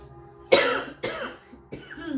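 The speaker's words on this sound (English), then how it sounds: "it's like too strong and it just makes me cough" Three separate coughs ring out close by, spaced roughly half a second apart, each a sharp burst trailing off quickly.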